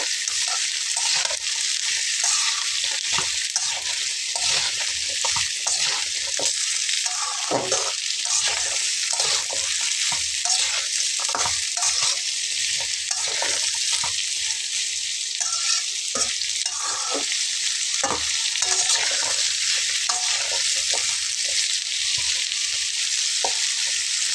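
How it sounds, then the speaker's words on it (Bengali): Potatoes fry in hot oil after bitter gourd, giving a loud, continuous sizzle with frequent scraping and clicking as a spatula stirs and turns the pieces in the pan. "প্রথমে উচ্ছেগুলোকে ভেজে নেওয়ার পরে আমি আলুগুলো দিয়ে নিচ্ছি"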